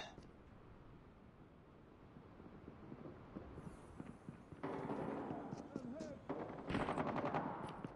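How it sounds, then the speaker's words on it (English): Sentry gun firing in the video game Call of Duty Mobile during a hardpoint match, with rapid automatic bursts that grow louder toward the end over busy game noise. "sentry gun deployed."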